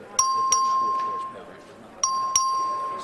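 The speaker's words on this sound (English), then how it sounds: "The clerk ring the bell." A voting bell rung by the clerk in the Texas House of Representatives chamber during a record vote: two bright electronic ding-dong chimes, a sharp pair of strikes repeated after a pause, ringing out over faint room murmur.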